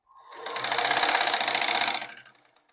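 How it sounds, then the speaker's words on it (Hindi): A sewing machine runs a single steady stretch of top-stitching on a ladies' salwar, its rapid needle clatter swelling up, holding, then winding down, close and clear without speech. "एक टॉप सिलाई मैं यहाँ पर लगा लूँगी, जो पहले का सिलाई है वहाँ से एक सूत के अंदर मैं सिलाई लगाऊंगी"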